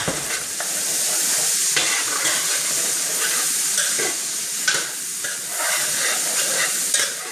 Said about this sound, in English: introduce your Vidalia onion into the bacon grease with the bacon also, and let that saute and brown